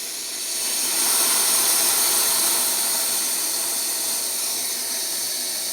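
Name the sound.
Coleman Exponent 550b single burner stove flame hissing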